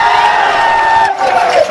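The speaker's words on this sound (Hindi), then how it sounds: "एक बार इनकी एक बार जोरदार ताली बजाते" Audience at a Bhojpuri film promotion event for Vivah cheers loudly, a dense sustained crowd roar with whoops and shouts, close and full throughout with a brief dip near the end.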